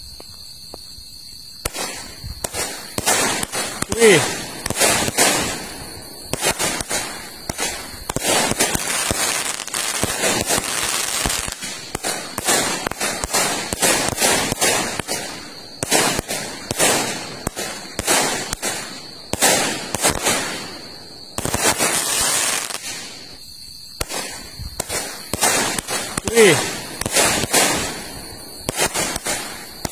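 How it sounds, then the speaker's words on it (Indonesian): New Year 2022 firecrackers called The Hobbit go off in long crackling bursts of rapid sharp pops with short pauses between volleys, loud and close, while a man briefly exclaims. "Itu dia tadi mercon The Hobbitnya."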